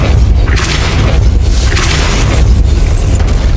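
Depulso spell blast in the Hogwarts Legacy video game: a loud, dense booming burst with a whooshing rush layered on top, filling the short moment without a pause.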